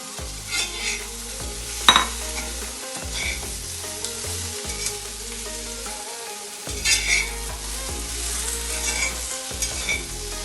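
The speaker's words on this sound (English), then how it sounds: "Let's put the pumpkins in there." Pumpkin pieces for a Kerala-style vegetable stew sizzle in a hot pan while being stirred, a continuous close frying hiss broken by intermittent scraping and a few knocks of the spoon.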